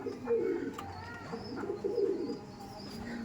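Soft, low cooing of dom pigeons at a pigeon loft in South 24 Parganas, repeating in gentle rolling phrases, close by, with faint background rustle.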